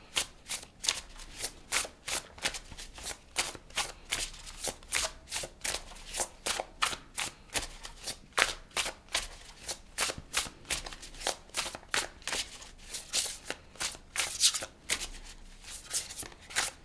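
Tarot cards being shuffled in a steady run of crisp, rapid riffling bursts, close and fairly loud, repeating for the whole stretch with no voices.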